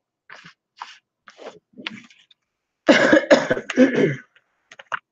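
A woman coughs close to the microphone, first with several small scattered coughs and then with a louder harsh burst of repeated coughs and throat clearing.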